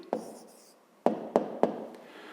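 Pen on paper as an answer to a math problem is written out by hand: four short, close scratchy strokes, one early and then three in quick succession, in a quiet room.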